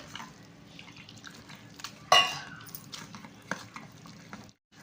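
Water being worked into a thick batter for water lily (shapla) fritters, giving faint wet stirring and squelching with a brief louder splash partway through, then small scattered clicks.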